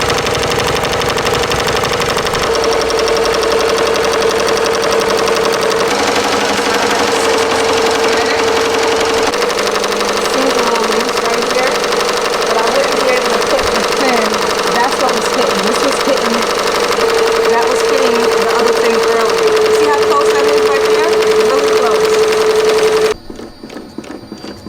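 An embroidery machine, an 8-in-1 device used for the first time, stitches steadily with a loud, continuous mechanical whir and rapid needle chatter that runs almost the whole time before stopping abruptly near the end.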